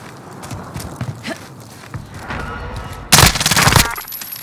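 Gunfire in a battle royale video game: quieter clattering and scattered thuds, then a loud, dense burst of rapid automatic shots near the end lasting under a second.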